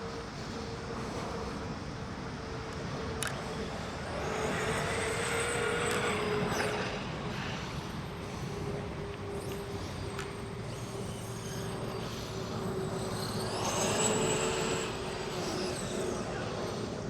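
A 5IVE T RC truck, which drives like a large 1/10-scale truck, runs at speed with a steady, continuous motor whine and rushing drone that swells slightly at times and holds throughout.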